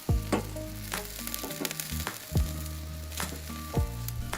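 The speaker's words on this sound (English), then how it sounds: "We're right there at the very end that we're searing it off a little bit" Tri-tip sears on a Weber kettle grill with a steady close sizzle, punctuated by several sharp clicks and taps at irregular intervals, with no voices.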